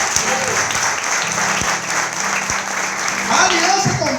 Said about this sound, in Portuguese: Quantos podem aplaudir o nome de Jesus?